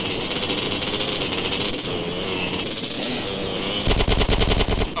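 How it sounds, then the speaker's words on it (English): Rapid gunfire in GTA San Andreas aimed at a gate, a loud rattling burst of shots near the end over a busy backdrop of engine and game noise. "Try to shoot the damn gate out."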